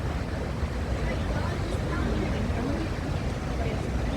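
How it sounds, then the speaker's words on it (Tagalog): Rushing water at Hong Kong Park, a dense, steady wash of splashing flow like a fountain or cascade, close and continuous with no breaks. "Ang tunog ng tubig."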